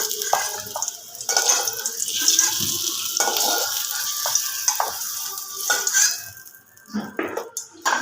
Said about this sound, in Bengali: আলুগুলো ভাজা হয়ে গেছে তুলে নেব